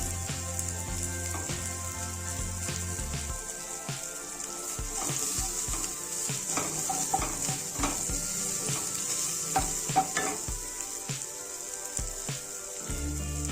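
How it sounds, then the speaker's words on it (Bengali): Whole cumin seeds crackling in hot oil for a Bengali raw banana, potato and prawn curry, a close, continuous sizzle with scattered pops and a few clinks of a utensil against the pan, with no talking. "গোটা জিরে দেবো"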